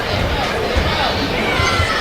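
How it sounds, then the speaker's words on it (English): A large crowd at the 2024 World Ninja League Championships, mature kids female stage, roars and cheers steadily throughout, a dense, continuous wash of voices and babble at close range. "The crowd is really cheering for her here"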